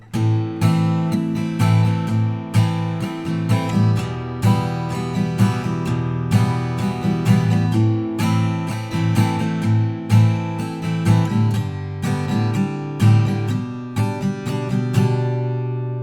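Acoustic guitar strumming chorus chords, a steady rhythmic pattern of ringing chords played close and clear for the full stretch, with no voices.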